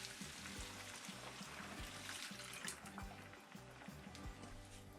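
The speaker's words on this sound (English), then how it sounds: "We are going to pour in our 2 cups of warm water." Two cups of warm water poured into a pan of dolmades, a steady, hissing, splashing stream heard close and continuous throughout, fairly quiet, with no talking.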